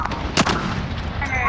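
Gunshots striking the player in the shooter game Warzone, a couple of sharp cracks over steady background game noise, with a voice faintly present.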